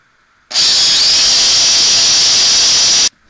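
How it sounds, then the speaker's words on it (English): A power drill bores a hole into a hiking pole, starting abruptly with a loud, steady high-pitched whine that holds for about two and a half seconds and then cuts off, with near silence on either side. "the idea is I'm going to drill a hole and bury that right in there like that."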